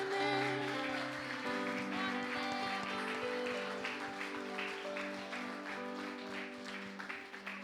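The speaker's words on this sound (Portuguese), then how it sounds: "Aplauda o Senhor Jesus." A church congregation applauds, steady clapping throughout under sustained organ or keyboard chords, with the clapping thinning slightly toward the end.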